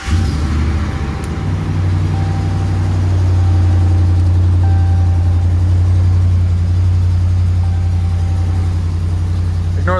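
A 2016 RAM 1500 pickup truck fitted with a winch bumper idles steadily with a deep, constant low rumble and a few faint electronic chimes, no talking.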